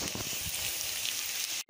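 Pork brisket frying with onions in a pan, a steady loud sizzle and crackle that runs unbroken for almost two seconds, then drops to near silence at the very end.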